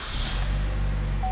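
A used Chevrolet Cruze engine starts and settles into a steady, close idle hum, with a short electronic chime near the end and no talking.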